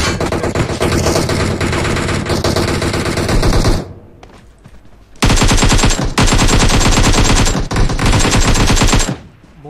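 Dense automatic gunfire from a video game shooter in two long, loud bursts with a short pause between them, rapid rattling shots throughout.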